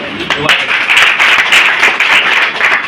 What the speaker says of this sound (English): I am clapping for you